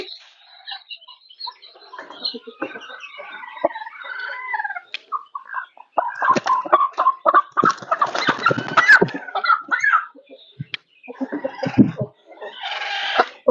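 Hens of a prized local breed cluck and call in a coop, a busy run of clucks and squawks near the listener, some louder bursts, with no talk.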